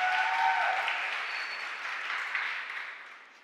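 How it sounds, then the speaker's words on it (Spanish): Audience applause at a regional student oratory competition, a bright, dense wash of clapping that holds steady and then fades toward the end. "Aplausos para Ana."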